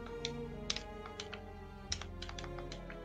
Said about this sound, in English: I can hear Mamon typing shit